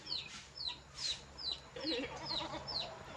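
Chickens cluck and chirp in a rural Philippine yard, with short repeated calls spaced about half a second apart over quiet farm ambience.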